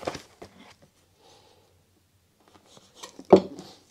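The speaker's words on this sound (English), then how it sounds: "I'm just going to trim off the end there." Scissors snip the end off fishing line while a paternoster rig for flounder is tied, a few faint clicks and then one sharper close cut near the end, with quiet gaps between.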